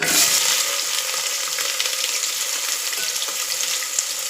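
Onions, ginger-garlic paste and green chillies frying in a pan for drumstick-leaf pulao, a steady bright sizzle and crackle with faint stirring, close and continuous with no voices.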